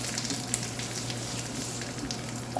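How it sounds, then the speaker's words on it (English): Blended rasam spices roasting in hot oil for a South Indian rasam, a steady close sizzle and crackle with a few small pops throughout. "I'm roasting it here in the oil"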